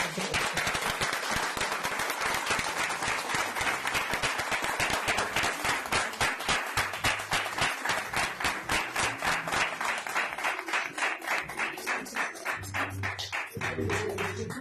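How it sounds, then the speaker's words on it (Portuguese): An audience claps in a long, strong burst of applause, loud and continuous at first, then settling into a more even, rhythmic beat toward the end. "O deles tem as palmas fortes"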